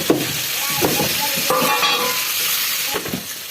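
Fish pieces go into a hot spice paste with cilantro and green chilies, and a loud, close sizzle follows, with repeated clattering stirs and scrapes of a spatula against the pan.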